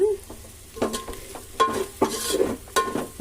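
A spoon stirs spices, mint, coriander, green chillies and yogurt into mutton biryani masala in a pot: repeated scraping strokes over a soft sizzle, close and steady, with no talk.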